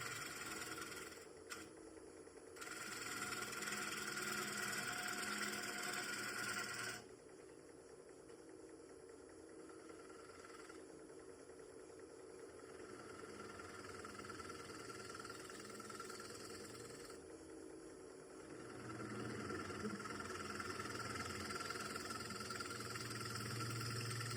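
A wood lathe turning an old bowl runs with a continuous motor drone and rumble, the tool cut rising and falling in loudness with some vibration, steady for the whole stretch without talking.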